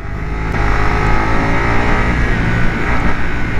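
BMW F900R motorcycle in dynamic mode, accelerating hard in first gear with a loud, steady engine roar that builds and holds throughout, close to the rider.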